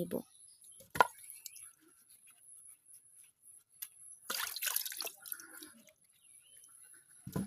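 Raw green mangoes are washed in water for a shredded pickle: faint sporadic drips and handling knocks, then a short burst of splashing and rubbing midway, close and quiet, with a few soft taps.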